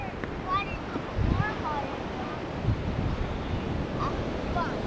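Sea surf washing into a rocky shore pool outdoors, a steady wash of water with a couple of heavier surges and gusty wind rumble, with people talking nearby.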